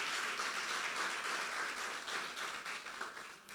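A church congregation applauding, steady dense clapping from many hands in a large room that fades slightly toward the end.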